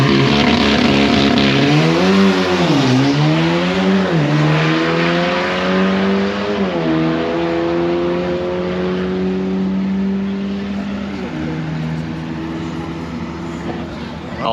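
A stock-turbo Audi S3 with deflated tyres and the passenger seat removed makes a drag racing pass, its engine loud and close as it revs hard through several rising gear pulls before the roar fades off into the distance.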